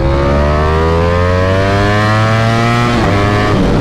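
Ducati V4 SP motorcycle engine on a dyno in second gear, revving loud and steady with rising harmonic pitch, then a sudden drop near the end as the throttle shuts.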